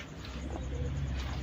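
Show pigeons coo close by in a soft, low, continuous burble with no other sounds.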